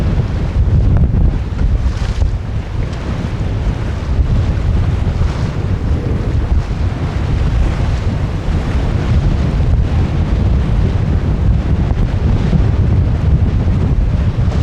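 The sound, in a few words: strong wind while sailing the boat Mingming II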